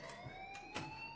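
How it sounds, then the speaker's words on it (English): An alarm rings through a school in the video game Life is Strange, a steady electronic tone held at a constant level throughout with faint background noise. "please turn off that alarm since that's your job"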